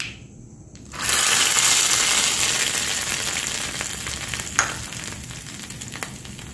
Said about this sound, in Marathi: याच्यामध्ये आता हा तडका आपण टाकून द्यायचा आहे केलेला